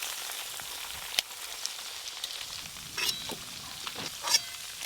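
Onions frying in oil for a home-cooked mutton biryani give a soft, steady sizzle with scattered sharp crackles and pops, close up, with no voices.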